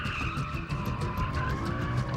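Car tires sliding and skidding across the pavement on a sedan driven hard without ABS, with a steady continuous hiss and squeal over a constant engine drone, close and uninterrupted.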